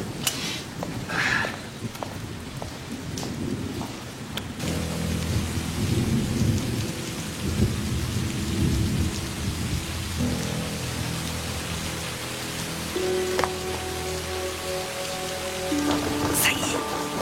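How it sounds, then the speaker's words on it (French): Heavy downpour of rain with thunder, a dense roar of rain throughout with rolling rumbles, while music and voices rise over it in the second half. "Quel déluge! Non mais quel déluge!"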